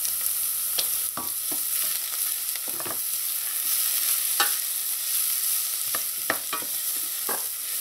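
Onions and a tablespoon of minced garlic fry in a pan for kadhi, a continuous close sizzle punctuated by several sharp scraping stirs at irregular intervals, with no voices.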